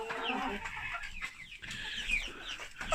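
Hens cluck in a coop in the evening, several birds muttering and clucking close by in overlapping short calls, soft to moderate in level.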